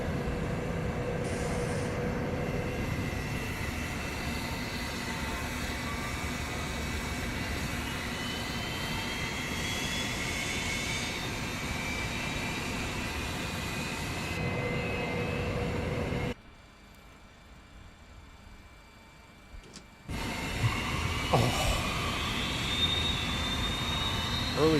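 MD80 with JT8D jet engine running steadily just after a good start, a continuous whine and roar heard from the cockpit, briefly dropping out midway then returning.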